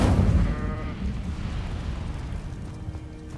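Incendio fire spell from Hogwarts Legacy, a loud whooshing burst of flame that rumbles and roars briefly, then fades into a steady crackling blaze.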